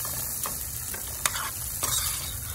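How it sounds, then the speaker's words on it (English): Shallots sautéing in a hot pan, a soft steady sizzle with a few light scrapes and taps of stirring, faint and close, no talk. "We're just gonna add the shallots. Give those a quick stir."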